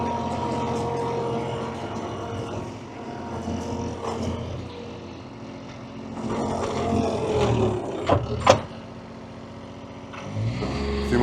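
A used Bobcat skid steer rumbles and revs through a puddle, with a steady engine roar that swells and dips and a couple of sharp splashy peaks near the end.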